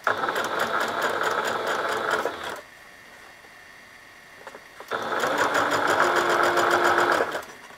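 A sewing machine runs steadily while stitching fabric slowly, humming in two near, even bursts of a few seconds each, with a quiet pause between them and no talk.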